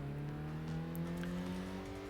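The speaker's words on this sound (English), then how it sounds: "sounds like he is running it in neutral and just" A car engine in the Tokyo Xtreme Racer video game held at high revs in neutral gives a steady, sustained droning whine with a flat, static pitch, fairly quiet and alone.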